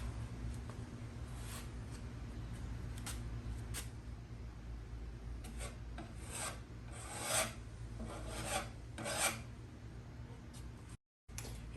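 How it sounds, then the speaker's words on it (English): Minwax wood filler being pressed and spread into small sanded holes in wood veneer, giving a steady close scraping and rubbing with repeated strokes over a constant low hum, no talking. "I'm just going to take the wood filler and spread it into these little holes"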